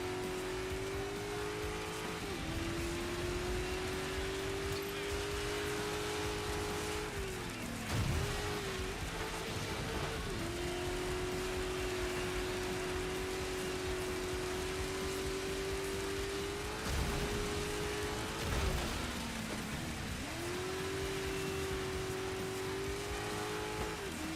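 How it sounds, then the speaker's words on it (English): Heavy rain drumming steadily under a racing game's constant engine drone, a loud continuous wash of noise with engine notes rising and falling throughout. "it's really raining like a son of a gun now"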